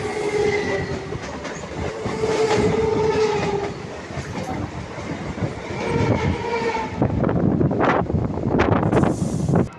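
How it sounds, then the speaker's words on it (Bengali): A local train running toward Sealdah station near Kolkata, rumbling with clickety-clack wheel rhythm and wind buffeting, a horn sounding early and the clatter growing louder and busier near the end. "শিয়ালদা স্টেশনে ঢুকছে"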